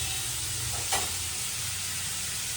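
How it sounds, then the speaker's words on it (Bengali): Food frying in a pan in a home kitchen, giving a steady close sizzle with one brief stir or spatter, and no talking. "এই দেখো কি ভাজা হচ্ছে তোমার জন্য।"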